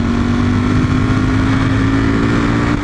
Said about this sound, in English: Uphill, put her in fourth, and then let's gun it.